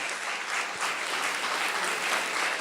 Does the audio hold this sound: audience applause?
yes